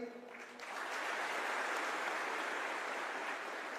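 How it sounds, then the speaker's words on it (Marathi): An audience at a motivational talk breaks into strong applause after a brief faint voice, the dense clapping swelling quickly and holding steady to the end. "म्हणून जोरदार टाळ्या होत्या एकदा साहेबांसाठी."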